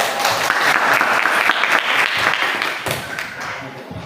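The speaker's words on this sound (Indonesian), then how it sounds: "Kita yang tepuk dulu." Students in a classroom applaud after a group presentation, a loud, close burst of many hands clapping with a few sharper slaps, thinning out and fading near the end.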